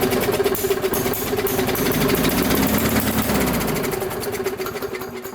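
A Briggs & Stratton small engine fed through a glass carburetor runs loud and close with a steady rapid putter, its pulses loosening and slowing slightly toward the end, with no talk.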